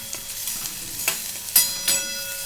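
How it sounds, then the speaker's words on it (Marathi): Onion fries in a pan toward golden brown with a soft continuous sizzle and a few distinct spatula scrapes, close up, no voices. "चांगला गोल्डन ब्राऊन होईपर्यंत आपण कांदा तळून घेणार आहोत"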